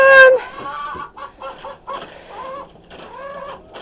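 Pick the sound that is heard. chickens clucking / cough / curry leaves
chickens clucking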